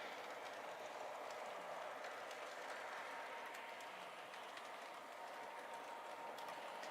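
Lionel model trains run on a track with a steady, even mechanical whir and rattle, quiet and continuous throughout with no talking.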